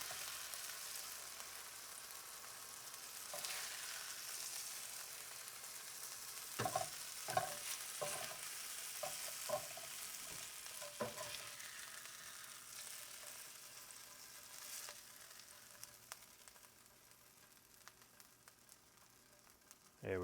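Steady sizzle of Philly cheesesteak kit meat frying in a frying pan on a home stovetop, with several spatula scrapes and stirring knocks over the continuous hiss, close by and without talk.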